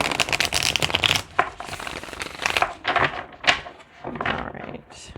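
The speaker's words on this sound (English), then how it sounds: "one more shuffle on this deck, the tarot deck" Tarot cards being shuffled by hand, a series of quick riffling and rustling bursts close up, with brief pauses between them.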